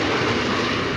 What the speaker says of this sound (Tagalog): Itong tren na to, ipabiyahin na ito.